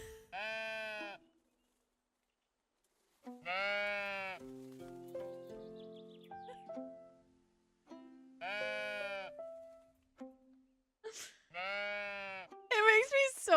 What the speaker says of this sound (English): You can pet the sheep if you get close.